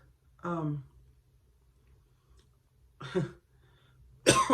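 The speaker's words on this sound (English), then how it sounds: "excuse me, I'm coughing" Two separate coughs spaced a couple of seconds apart in a quiet room, close to the microphone, followed by the start of another burst.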